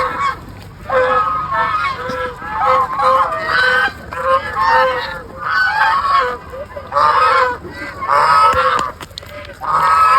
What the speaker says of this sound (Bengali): ওই যে পুকুর থেকে উঠে আসতেছে কতগুলো হাঁস দেখেন।